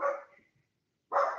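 Dogs give two sharp barks, close and loud, separated by about a second of silence.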